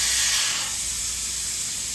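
Air hisses steadily out of a Toyota 4Runner tire through the valve stem with its core removed, a loud continuous close-up rush of escaping air.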